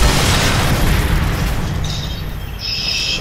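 Sniper rifle shot in the video game Sniper Elite 3, a loud, booming report whose rumble fades away over a few seconds, no talk.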